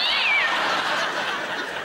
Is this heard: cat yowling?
yes